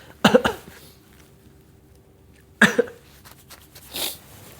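Two short bursts of coughing a couple of seconds apart, close and fairly loud, followed by a softer breathy throat sound.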